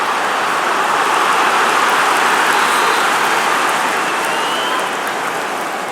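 Football stadium crowd in a Premier League video game, a continuous loud roar of cheering and noise that holds steady throughout and eases slightly at the end, with no commentary over it.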